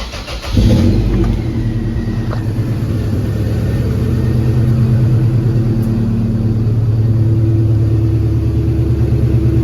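A 1997 Toyota Tacoma with the 3RZ engine and a new MagnaFlow catalytic converter cranks briefly, starts, then settles into a loud, steady, close idle rumble.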